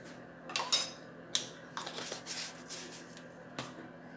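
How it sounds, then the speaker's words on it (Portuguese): A utensil scrapes and clinks against a bowl while orange and cornmeal cake batter is stirred, a few quiet, irregular strokes close by. "Vamos mexer bem."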